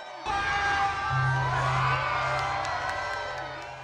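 A crowd cheers and whoops at the lighting of the San Juan Christmas tree in front of City Hall, a loud swell of voices that begins abruptly and slowly fades.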